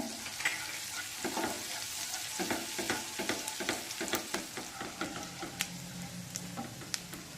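A spoon scrapes and stirs rhythmically through green chilies and ginger with garlic in a hot pan, each stroke clicking over a constant light sizzle.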